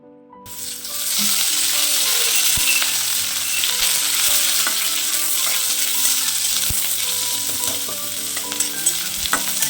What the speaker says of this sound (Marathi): एक मिनिटभर कांदा परतायचा आणि नंतर त्याच्यात तेल टाकायचं